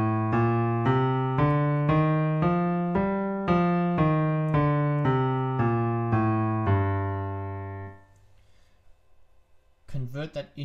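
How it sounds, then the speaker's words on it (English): Keyboard playing a G natural minor scale, about fourteen evenly spaced clear pitched notes stepping up and back down, the last note held and fading, followed by a brief rustle. "So G natural minor, and I'll play it on the keyboard for you."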